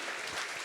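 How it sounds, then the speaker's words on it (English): A conference audience at a business and governance event claps in a brief, dense burst of applause that fills the room evenly. "give them a big round of applause"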